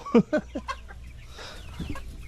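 Dekalb Brown laying hens clucking in their coop, giving a few short, close clucks followed by a rougher, drawn-out call over a steady farmyard background.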